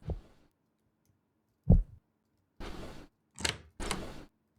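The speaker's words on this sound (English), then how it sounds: "Great, they've locked the door." A door locking in the horror video game Onryo: a low thud, then a series of short, sharp latch clunks and rattles, close and distinct against near silence.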